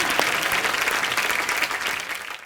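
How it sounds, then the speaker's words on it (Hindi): An audience breaks into loud, sustained clapping for the star cast of Momo Ke Dhaage on a comedy talk show stage, a dense crowd applause that holds steady before tapering off at the end. "मोमो के धागे की स्टार कास्ट के लिए तालियां"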